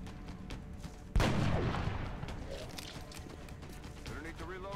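A single heavy gunshot from the XCOM: Long War video game cracks out loud and close, then trails off in a long rumbling decay, with someone talking throughout.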